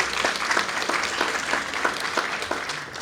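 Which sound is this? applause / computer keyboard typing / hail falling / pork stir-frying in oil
applause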